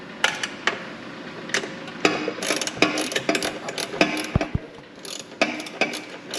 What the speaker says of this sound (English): so then we just gotta tighten these up. 10 millimeter.